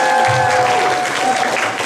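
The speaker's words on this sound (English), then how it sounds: "Can we give them a quick round of applause for" An audience applauds volunteers at a Democratic Party caucus session, a steady, dense round of clapping that carries through under a faint tonal hum.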